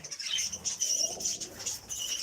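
Caged lovebirds and zebra finches in an aviary, with high, thin chirps and twittering that repeat steadily throughout. A soft, muffled flutter comes from lower down, and no one speaks.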